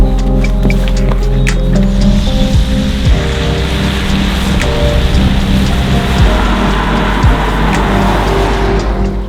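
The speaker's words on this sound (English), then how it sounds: "It actually started raining" Heavy rain pours in a dense, continuous hiss near Cheddar Gorge in England, loud and close, with a low engine-like rumble from a nearby car underneath.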